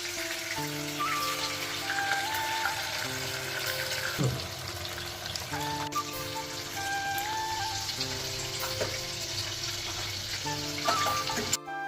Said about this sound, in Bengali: এবার তেল ঢেলে নিলাম মাছগুলোকে ভাজার জন্য।